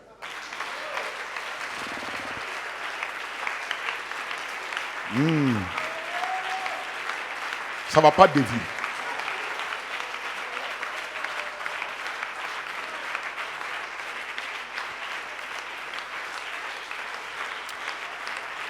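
A church congregation claps and cheers in sustained applause throughout, with a preacher's voice briefly heard over it and a few short tonal sweeps partway through.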